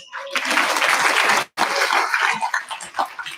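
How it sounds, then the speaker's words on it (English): Applause at a graduation ceremony, a crowd clapping loudly and fairly near, broken by a brief gap midway before it picks up again and thins toward the end. "Give him a round of applause."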